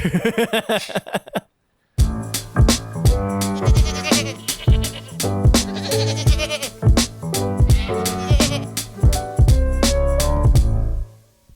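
Goat bleating used as a comic sound effect, a short cry, a brief silence, then a long stretch of rhythmic bleats layered over music, loud and upfront.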